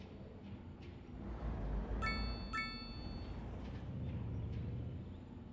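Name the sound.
electric bus chime in Cities Skylines 2 video game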